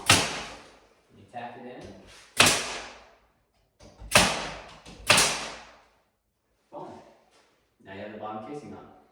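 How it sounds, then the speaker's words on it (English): Window casing trim being nailed into place, several sharp, loud impacts spaced a second or so apart, with someone talking between them. "So now what we're gonna do is nail it on"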